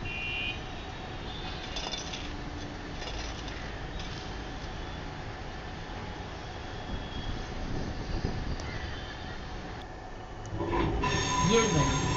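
A Pune metro train at Shri Chhatrapati Sambhaji Maharaj station gives a steady rolling rumble with wheel squeal and tonal whine, and the sound grows louder and rougher toward the end.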